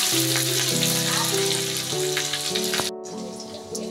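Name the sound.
grated carrot frying in oil with ginger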